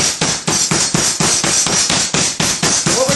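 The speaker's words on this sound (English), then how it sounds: "You're going to start pounding from the center and work your way out to the edges." A mallet pounds a piece of meat flat to tenderize it, working from the center out to the edges, with about a dozen sharp, loud, evenly paced thuds close up and no talking.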